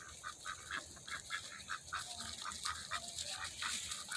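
A flock of ducks in a wooded permaculture food-forest garden quacks in a quick, repeated series of calls, fairly close and steady, with no voices over them.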